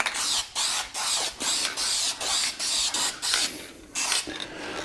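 Duplicolor spray paint hisses onto a vinyl seat in about ten short bursts of roughly a third of a second each, close and loud, separated by brief pauses.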